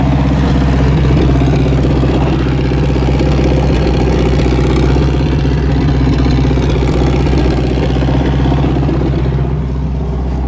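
A Mercedes G-wagen restomod's 2.3 liter engine runs with open headers. It makes a loud, steady, rumbling idle with a rough, clattering exhaust throughout and no speech.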